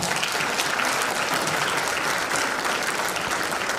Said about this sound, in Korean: 박수 한번 쳐주시기 바랍니다.